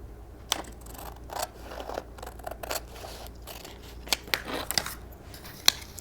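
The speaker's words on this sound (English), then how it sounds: "we're going to cut this right up here" Scissors snip through paper for a kids' craft, a series of irregular crisp cuts and clicks, close and moderately quiet with no talking.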